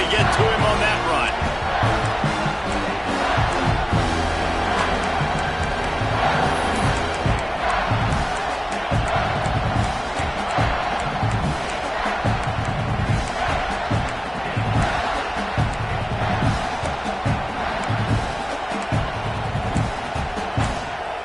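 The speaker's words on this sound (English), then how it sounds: "Third down play in the red zone, and this crowd is at fever pitch." College football stadium crowd at fever pitch on a third down in the red zone, a steady massed roar of cheering and noise running throughout beneath an announcer's commentary.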